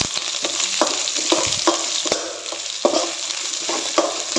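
Vegetable noodles stir-fry in a hot pan with onion and chilli, a steady loud sizzle broken by scraping and stirring strokes of a utensil against the pan.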